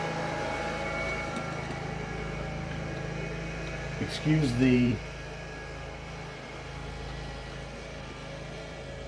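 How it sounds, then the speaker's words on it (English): A lawn mower engine runs outside, heard as a steady, distant drone in the background while someone talks close by. "engine noise. That's actually one of our lawn mowing guys."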